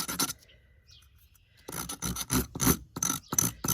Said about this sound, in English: Alright, I got some sandpaper.